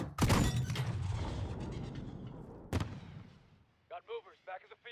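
Explosions and gunfire from the Embassy mission of Call of Duty Modern Warfare: a loud close blast opens with a rumbling tail, a second sharp boom follows, then brief shouted voices near the end.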